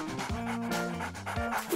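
A dog pants close by in quick, rhythmic breaths. The panting runs continuously through the short stretch, mixed with some tonal background sound, and no speech is present.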